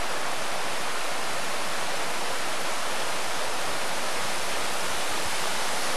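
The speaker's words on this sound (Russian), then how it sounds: "Так успокаивающе журчит водичка." A mountain stream in an autumn forest babbles in a steady, dense rush of water, close and constant throughout with no voices.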